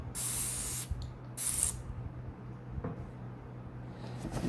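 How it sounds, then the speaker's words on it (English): Two quick hissing bursts of spray cleaner on the bottom lining of a Dooney purse, close and loud, followed by faint rustling and handling sounds. "I'm going to clean the heck out of it and just keep spraying"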